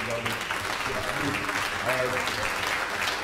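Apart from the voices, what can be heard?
applause for the boxers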